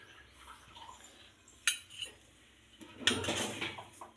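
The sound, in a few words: kadai (wok) pan placed on the stove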